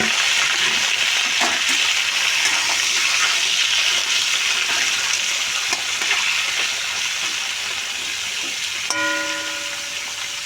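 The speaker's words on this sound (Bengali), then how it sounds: "আমি এবারে সবজিগুলো সব একসঙ্গেই দিয়ে দেবো, দিয়ে ভেজে নেব" Tomato, eggplant, potato and beans frying together in spiced oil, a loud, steady sizzle with scattered stirring scrapes and a brief ringing tone near the end.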